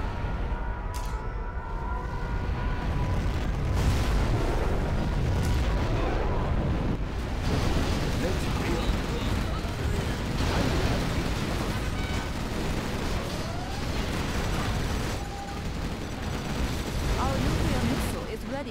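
Roaring rumble of a Chinese nuclear missile strike in Command & Conquer Generals Zero Hour, a loud continuous barrage of blasts and crackling debris that runs the full length, with scattered sharp cracks on top.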